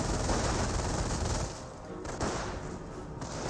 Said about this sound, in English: Does use suppressive fire there.